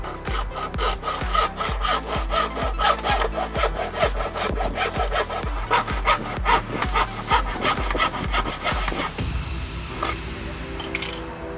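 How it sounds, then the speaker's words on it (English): A small, cheap handheld jigsaw cuts a plastic side skirt splitter for an R56 Mini Cooper S, buzzing with a rapid, steady chatter of blade strokes. It runs close and loud for about eleven seconds, then winds down, with no speech. "I have a little handheld jigsaw. It should cut to this like butter."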